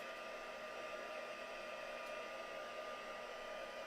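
A heat tool blows steadily while it dries an embossed card, making a constant, even whooshing roar from start to finish with no talking.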